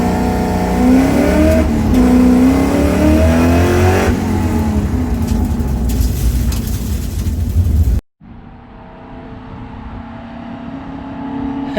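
A Coyote-swapped Mustang notchback engine roars loudly at a drag launch, rising in pitch for about eight seconds before cutting off abruptly, followed by a quieter steady rumble.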